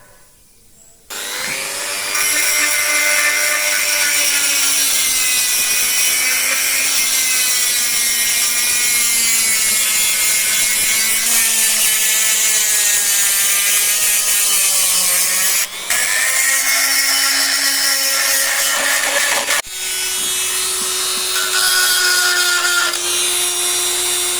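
A high-pitched power tool whines continuously while sanding a granite relief carving, its pitch wavering as it grinds along, with short breaks where it shifts tone.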